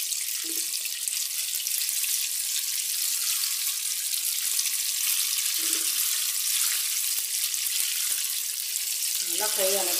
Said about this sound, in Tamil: ரெண்டு சைடுமே நல்லா ஃப்ரை ஆகிடுச்சு. பபுள்ஸ் அணங்கிடுச்சு.